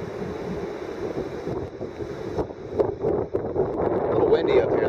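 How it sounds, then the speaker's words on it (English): Steady wind on a high lookout in the Laurel Highlands roars and buffets the microphone in gusts, a constant blustery rush with no pauses. "A little windy up here though."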